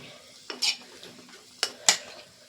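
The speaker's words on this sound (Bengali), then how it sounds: "ভালো করে গুলে নেব যাতে কোনো রকম ডেলা না থাকে" Cornflour being stirred into liquid with a spoon to dissolve lumps for a chicken manchow soup, heard as a few sharp metallic clinks against a bowl over a quiet background, close and fairly soft.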